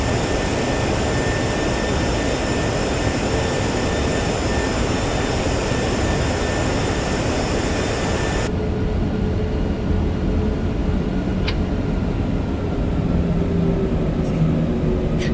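Heavy jet engines of an Airbus A340-300 spooling at high thrust in a flight simulator game, a steady loud broadband roar with whining tones that drops to a softer rumble partway through, no talk.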